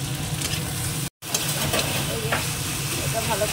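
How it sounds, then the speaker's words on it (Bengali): Onions fry in a pan with ginger and garlic paste, giving a dense, close sizzle and hiss with stirring scrapes and a brief cut near the start. "পেঁয়াজটা কিছুটা ভাজা হয়ে গেছে, দিয়ে দেবো আদা বাটা, অল্পই দেবো, দিয়ে দেবো রসুন বাটা"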